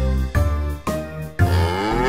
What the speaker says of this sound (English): A cow is in the barn